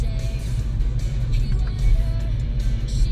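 A car engine hums steadily at low pitch, idling or rolling nearby, with faint traffic noise around it and no talk.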